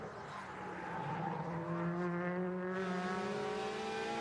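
Touring race cars lap the floodlit Losail circuit in Qatar, engines droning at high revs with rising gear-change tones, steady and fairly loud with a faint outdoor wash behind.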